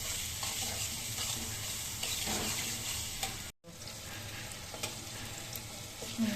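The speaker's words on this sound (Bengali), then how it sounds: "বউয়ের পছন্দের জিনিস উস্তাবাজি ভাজি" Bitter gourd stir-fries in a pan with a steady, soft sizzle and scraping stirs, a brief dropout midway, then the frying continues at low level without talk.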